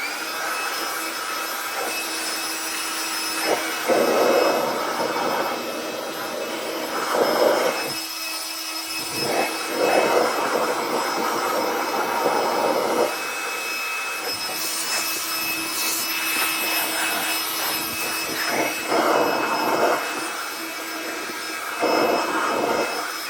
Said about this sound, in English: gave me a chance to go grab my little Ryobi blower